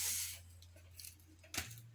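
A quiet sandy hiss as 600 grams of sugar pour into a pan of cut pineapple pieces, strongest at the start, then fainter grainy patter with a brief burst near the end.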